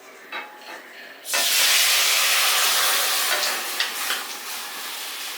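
Cooked potato and carrot are poured into a hot pan, setting off a sudden loud, hissing sizzle that holds steady after a few quiet clinks, with faint scraping and stirring under it.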